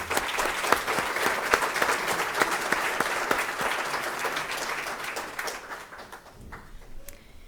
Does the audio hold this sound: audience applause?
yes